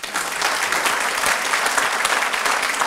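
An audience at a New Year's wishes ceremony applauds departing councillors, a loud, dense and uniform patter of many hands clapping without pause from start to finish.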